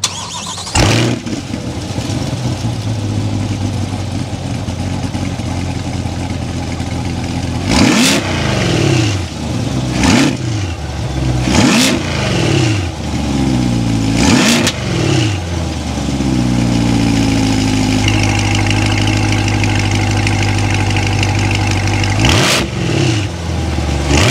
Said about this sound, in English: start it up, give it some riz so you can hear that exhaust note